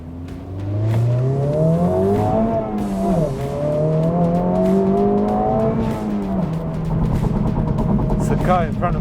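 A new Honda Civic Type R in R mode pulls hard under load from inside the cabin, its engine note sweeping up through the gears with a brief dip around a shift, loud and steady, with a voice speaking over it.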